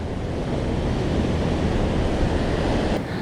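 Ocean waves roll white water and sea foam onto the shore in a continuous loud roar of surf, with wind buffeting close to the microphone.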